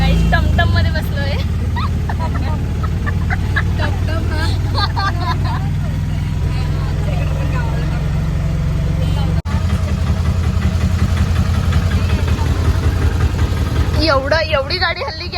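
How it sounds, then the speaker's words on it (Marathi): Inside a moving tumtum auto-rickshaw on a hot day, a steady loud engine drone and road rumble run throughout while people talk and laugh over it. "गाईज, टमटम मध्ये बसलोय."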